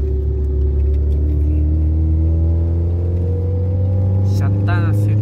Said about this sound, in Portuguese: Acelera e põe segunda pra nós ver.